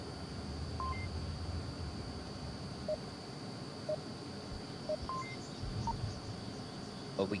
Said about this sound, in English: the countdown timer is making its noise into round number 2